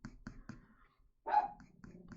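A dog named Mango barks in the background, a few short faint woofs spaced apart, followed by one louder, fuller bark near the end.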